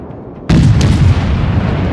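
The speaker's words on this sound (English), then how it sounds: "All stations, concentrate fire on the target." Naval gunfire from a warship in World of Warships, a single loud, heavy boom that bursts in abruptly after a quiet moment and rolls into a long sustained rumble.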